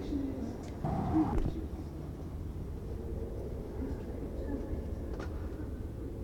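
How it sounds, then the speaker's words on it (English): Indoor train station ambience inside the VR shooter Blast World, a steady low hum with faint distant murmur, a brief louder swell near the start and a few soft clicks, with no one talking. "I'm in a train station."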